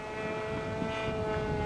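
A radio control twin-engine airplane flying on one engine, a steady droning propeller hum with a buzzing tonal whine, held at constant loudness and fairly close, with no voices over it.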